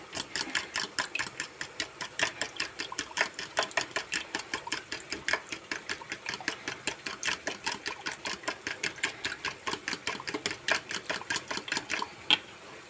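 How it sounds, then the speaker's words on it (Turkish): Eggs whisked for menemen in a home kitchen, a fast, regular clicking of a whisk against a bowl, close and steady for several seconds with no talking. "Yumurtasını çırpacağım."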